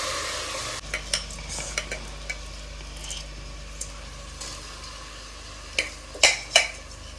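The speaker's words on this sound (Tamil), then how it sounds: "இன்னும் நல்லா வதக்கிக்கலாம்" Ingredients for coconut biryani sauté in a pan, steady low sizzle under occasional spoon clinks and scrapes, growing louder with a few sharp knocks near the end.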